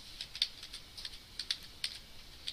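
Keys clicking on a computer keyboard during a client/server scripting lecture, a quiet burst of about a dozen light taps at an uneven typing rhythm with no voice over them.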